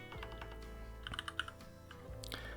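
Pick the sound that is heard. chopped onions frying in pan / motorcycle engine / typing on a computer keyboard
typing on a computer keyboard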